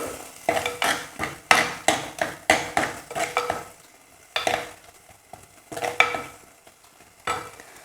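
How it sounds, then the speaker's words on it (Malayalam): Raw mango pieces being stirred into a simmering fish curry gravy, a spoon clattering against the pot in a quick run of sharp scrapes and knocks, then a pause and a few more scattered strokes over a faint simmer. "ഈ ഗ്രേവിയിലേക്കാണ് ഞാൻ മാങ്ങ ചേർക്കുന്നത്."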